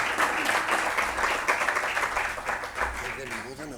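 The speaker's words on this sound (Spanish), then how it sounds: "Vamos a darle un aplauso a Juan." Applause from the audience at a forum on environment, economy and sustainability in Calpe, a fairly close round of mixed clapping that stays steady over a low room hum, with a voice briefly audible underneath.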